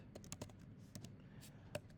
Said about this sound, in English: So I'm typing my input.